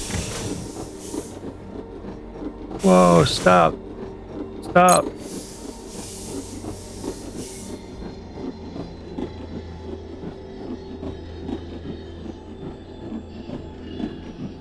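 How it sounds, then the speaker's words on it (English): A train in the Foundry game rumbles and hums steadily along its track, a low continuous drone with faint rhythmic clicking, interrupted early by two bursts of a person talking loudly. "You really get humming on this train."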